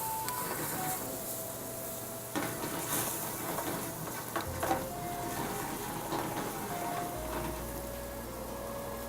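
Heavy double cream poured into a simmering white wine syrup in a pan, giving a steady sizzle and bubbling with a few light clinks of utensils, fairly close and without talk.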